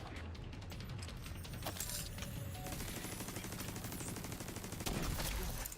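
Sustained gunfire from The Division 2 on Xbox One X: dense, rapid automatic bursts and overlapping shots keep up a loud, continuous barrage.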